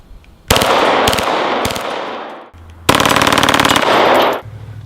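A Glock pistol fitted with a switch fires full auto in two loud, rapid, close-up bursts separated by a short pause.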